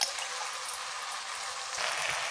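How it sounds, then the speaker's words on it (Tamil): Strained tamarind water being poured into a cooking pot, a steady close splashing pour without talk. "புளித்தண்ணி இதுலேயே ஊற்றிடுவோம்."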